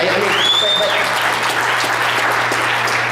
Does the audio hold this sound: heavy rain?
no